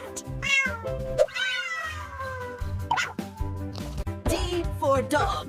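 A cat meows repeatedly, several drawn-out, wavering cries close by with short pauses between them.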